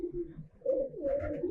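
A racing pigeon in a loft in Munshiganj gives soft, low coos, a brief murmur and then a longer rolling coo, close by and fairly quiet with no talking.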